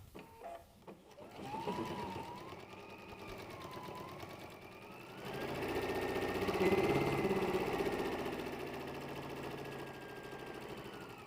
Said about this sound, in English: we're going to step to our machine and sew a 1/4 inch seam all the way around the perimeter of this pillow